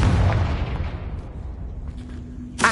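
A Confringo blasting spell goes off in a Harry Potter video game, a loud booming blast at the start that rumbles and fades, followed by a sharp crack near the end.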